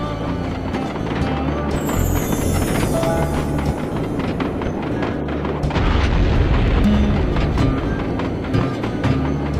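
A train caboose is blown open by an explosion in the video game Sly 2: loud, rumbling booms and blasts roll over a heavy, continuous train clatter, with a big burst near the middle and no talking.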